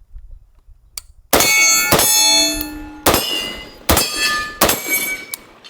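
A Springfield Armory St. Victor .308 rifle with a 16-inch barrel and a muzzle brake fires five sharp, loud shots in an uneven rhythm, each crack trailing a ringing metallic tail.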